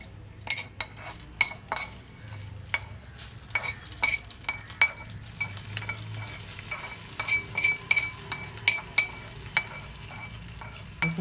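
Hot tempering for curd rice poured over cooked rice and stirred in, with a scraping spoon, metal clinks and a soft sizzle, close and steady with no talking.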